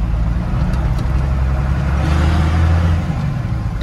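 A Ford F700 truck converted into a pickup runs its engine loudly up close, a heavy low rumble that swells briefly around the middle as it revs, then settles.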